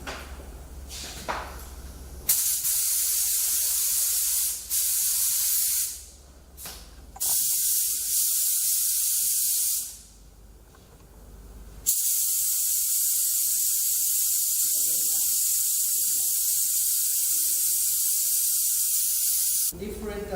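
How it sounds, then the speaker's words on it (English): An electrostatic powder coating spray gun sprays in long, steady, loud hissing passes, first horizontal and then vertical, broken by a few brief pauses and short stops, close by. "I spray first now in the horizontal way, and then I go in the vertical or opposite."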